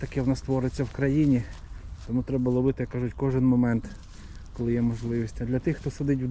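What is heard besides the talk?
No everyday noise stands out behind the speech.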